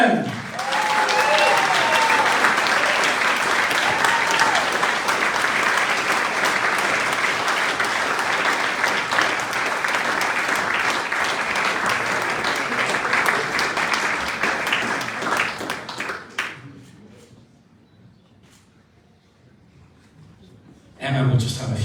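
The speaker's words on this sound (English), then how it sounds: "would you please give a big round of applause for Emma Brennan?" Sustained audience applause and cheering at a 2023 sports awards ceremony for the Sportsperson of the Year winner, loud and dense for about sixteen seconds before fading to near quiet, then a brief burst returns at the end.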